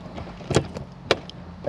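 Two sharp plastic clicks about half a second apart, a Dethleffs caravan hatch latch snapping shut, over a low background rumble.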